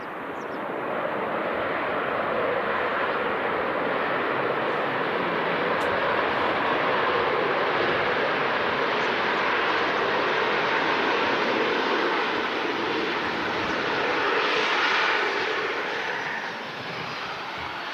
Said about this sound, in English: Slow and nice and quick, the Ryanair 73. Full reverse being used there, I believe.